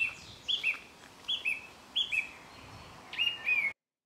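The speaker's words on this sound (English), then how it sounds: "Yes, that was the sound of birds singing birdsong." Birdsong rings out in clear, repeated short chirping phrases about every half second to second, close and fairly loud over a faint steady background, with no voices.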